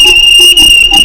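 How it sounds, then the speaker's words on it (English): A guard's whistle on a model railway station, a single shrill steady tone lasting about a second, loud and close over background bustle. "the guard's whistle."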